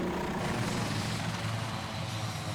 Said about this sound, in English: That's a very distinct sound of the engines winding down,